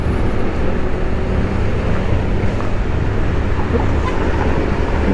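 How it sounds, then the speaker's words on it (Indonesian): A car speeds past through an underpass at night, a loud steady roar of engine and tyre noise filling the enclosed roadway, with continuous traffic rumble and no voices. "kencang kali mobil tuh"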